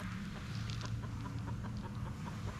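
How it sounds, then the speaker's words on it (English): A backyard chicken clucks near the ground, a few soft irregular clucks over a steady low outdoor hum, with no talking. "whose chicken is this?"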